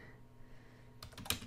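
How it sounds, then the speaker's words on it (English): A burst of keyboard typing during a sinking ship simulator game, a quick run of clicky keystrokes breaking in after a second of low background hum, close and moderately loud. "Oh no, he's typing a new message."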